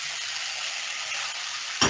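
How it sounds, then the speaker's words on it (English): Vegetables fry in hot oil as the first step of a soup, giving a loud, steady, hissing sizzle that continues unbroken, ending with a short clatter or stir; no one speaks. "Now you hear that sizzling."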